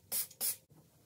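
Two short hissing bursts from a trigger spray bottle of new tile and grout cleaner, applied on tiles, close and fairly loud, followed by quiet room tone.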